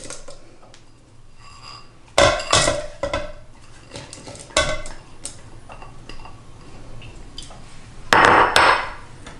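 Frozen raspberries being broken up in a bowl for raspberry bars, heard as sharp clinks and scrapes of a utensil against the dish in irregular bursts, loudest near the start and end.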